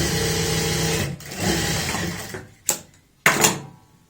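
A sewing machine stitches a strip onto palazzo pants, running in long steady whirring stretches and then two short bursts, close and loud with no talking.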